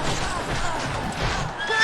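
A horse whinnies in the video game Kingdom Under Fire: Heroes amid a busy mix of clattering hooves and battle noise, fairly loud and brief.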